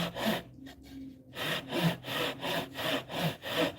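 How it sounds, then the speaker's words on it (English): A hand saw cuts through metal along a marked line at a jeweler's bench, a close, steady back-and-forth rasp of about eight even strokes after a brief pause near the start. "drop that saw on that line"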